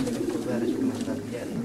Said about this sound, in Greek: Όντως είναι βολιώτικα αυτά τα περιστεριά.